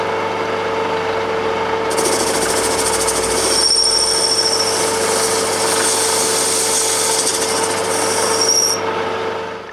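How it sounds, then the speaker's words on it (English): Metal lathe turning down model locomotive wheels for a Gauge 1 engine, a steady loud machining hum with a high whining cut that runs for most of the stretch, with no voices. "So we'll just pop the wheels off the axles and pop them in the lathe."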